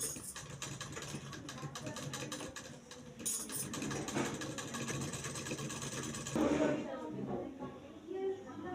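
A sewing machine runs steadily as it stitches a half-inch joining seam on a concealed zip, with a continuous rapid mechanical whir and clatter over several seconds while a person talks.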